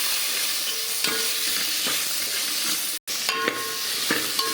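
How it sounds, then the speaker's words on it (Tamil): Chopped tomatoes frying in oil for rasam give a continuous close sizzle, broken by a few spoon scrapes and light clinks against the pan and a brief dropout midway, with no voices. "தக்காளி நல்லா வதக்கிட்டோம்."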